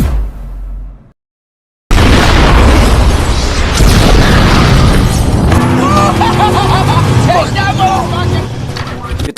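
After a brief silence a loud explosive boom erupts, followed by a sustained roaring, crackling rumble with shouting voices mixed in.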